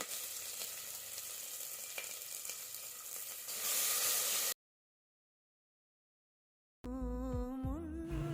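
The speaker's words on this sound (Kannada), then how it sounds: "ಒಂದು ಕುಕ್ಕರ್ಗೆ ಸ್ವಲ್ಪ ಎಣ್ಣೆ ಈರುಳ್ಳಿ ಕರ್ಬೇವಿನ ಸೊಪ್ಪು ಟೊಮೊಟೊ ಹಾಕಿ ಫ್ರೈ ಮಾಡ್ಕೋತಿದ್ದೀನಿ ಲೋ ಫ್ಲೇಮಲ್ಲಿ" Onion, curry leaves and tomato frying in oil over low flame in a pressure cooker pot for sambar: a steady close sizzle with faint stirring that swells louder, then cuts to silence before a burst of unrelated tonal sound.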